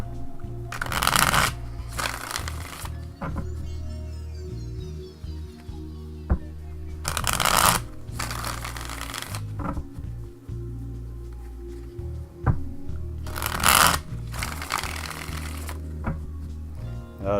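Tarot cards shuffled by hand in three separate bursts of crisp riffling, each lasting about a second, with quiet pauses and faint soft handling noises between them.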